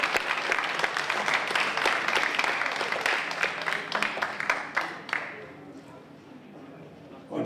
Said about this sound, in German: Aber bis dahin nochmal euer Applaus